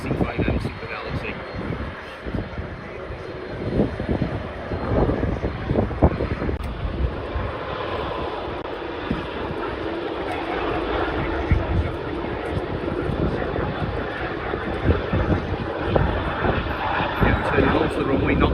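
A C-5 military transport aircraft taxis and turns onto the runway at the RIAT airshow, its broad engine roar steady and fairly close, with wind buffeting and crowd chatter and talk running underneath.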